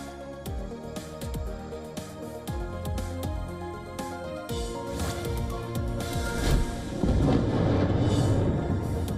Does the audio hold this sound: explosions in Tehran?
yes